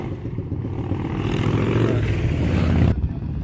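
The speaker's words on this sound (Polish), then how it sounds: "Fajny jest ten dźwięk silnika." A throaty car engine revs and builds in a steady rumble nearby on a street in Largs, Scotland, then cuts sharply to quieter outdoor background.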